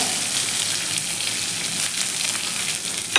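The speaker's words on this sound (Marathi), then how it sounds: "आणि ते तांदूळ देखील आपण या तुपावरती छान असे परतून घ्यायचे आहेत" Close, continuous hiss and crackle of rice grains frying in ghee for a rice kheer, loud and even with a few brief stirring scrapes, no talking.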